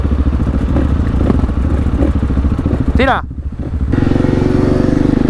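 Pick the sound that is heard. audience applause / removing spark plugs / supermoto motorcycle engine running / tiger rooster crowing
supermoto motorcycle engine running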